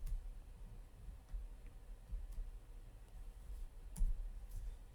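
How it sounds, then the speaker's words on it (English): Computer mouse clicks during work in Excel, a few sharp, faint clicks scattered over a quiet background. "right mouse click"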